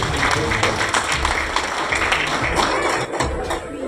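Applause from the audience at a journalists' day event in Vijayapura, a dense, sustained crowd clapping of many hands that carries through without a break.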